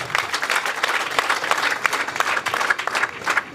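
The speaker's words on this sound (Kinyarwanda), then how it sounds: "Abagendanye amashyi" A wedding crowd gives guests a warm round of applause, a dense and steady patter of many hands clapping nearby with a faint murmur of voices underneath.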